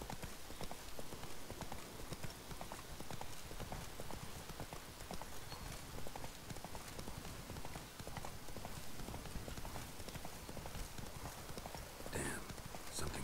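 Rapid, dense hoofbeats of the horse Roach galloping in the video game The Witcher 3, loud and continuous with a steady drumming rhythm, a voice faintly talking underneath.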